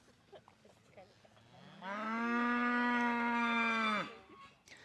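A cow on a cattle-roping ranch lets out a single long, loud moo lasting about two seconds, rising slightly then cutting off sharply, over faint background rustle.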